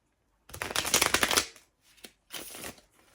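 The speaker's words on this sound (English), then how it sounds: "Let's just give these a good shuffle." A deck of cards is shuffled twice in a quiet room, first a long riffling burst of crisp rapid flutters, then a shorter second riffle after a brief pause.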